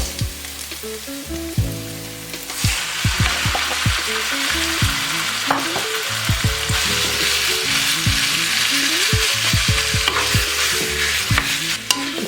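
Minced meat hits a pan of hot oil with green onion for steamed bun filling, sizzling loudly and steadily as a spatula clanks and scrapes repeatedly against the pan.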